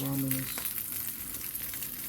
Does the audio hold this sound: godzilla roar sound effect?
no